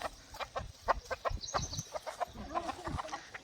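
Chickens clucking close by, a rapid run of short calls with a rooster among them, with no talking.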